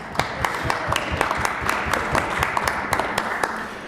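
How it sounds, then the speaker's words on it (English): A legislative chamber audience giving applause during a debate, a steady wash of many hands clapping at moderate volume, sustained throughout without speech over it. "I think he deserves a round of applause."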